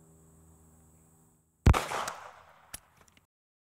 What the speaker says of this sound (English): shooting 9mm through that drywall with the vinyl exterior siding with the SIG MPX and 9mm ball